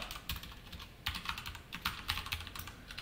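Typing on a computer keyboard, a steady run of quick clustered keystrokes with brief pauses, close and clear with no voices.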